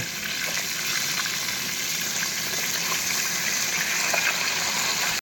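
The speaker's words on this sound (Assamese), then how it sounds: "পিঁয়াজ জলকীয়া কাটি আলু কাটি বিলাহী কাটি চব ৰেডি বনাবৰ কাৰণে ফ্ৰাই কৰি আছোঁ" Onion, chili, potato and tomato fry in a pan with a dense, continuous hiss and crackle, close and steady throughout with no pauses and no voices.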